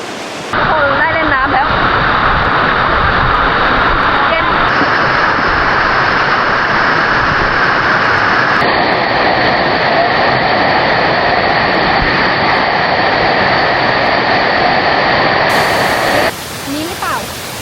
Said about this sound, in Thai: ตอนนี้เรามาถึงน้ำตกโตกอีโดแล้วค่ะ